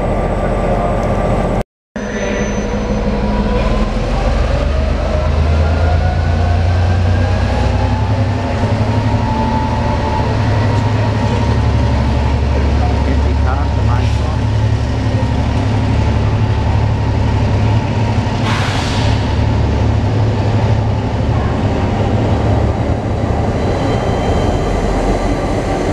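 A train pulls into a station in Brisbane with a locomotive on each end: a loud, continuous, heavy rumble of wheels and engines, with a brief metallic squeal partway through.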